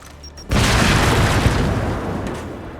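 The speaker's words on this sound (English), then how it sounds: "Throwing grenade!" A grenade explosion in the Gears 5 video game: after a short quiet lead-in, one loud, close boom bursts out and then rolls on as a long, dense rumble that fades only slightly.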